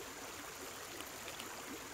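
A fountain in Animal Crossing Happy Home Paradise splashes in a steady, dense rush of falling water, constant and fairly close, with no other sound over it.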